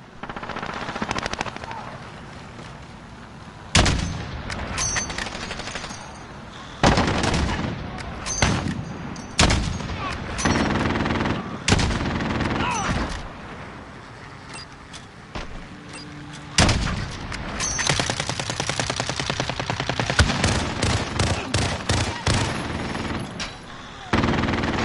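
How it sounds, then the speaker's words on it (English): Bursts of automatic gunfire from an enemy sentry gun in a Call of Duty game, loud, sharp volleys in repeated clusters with brief pauses between them, mixed with booms and battle noise and no speech. "Enemy sentry gun active."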